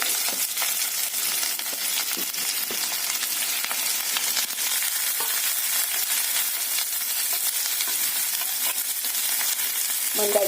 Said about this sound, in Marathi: वरती कांदा छान परतून घ्यायचा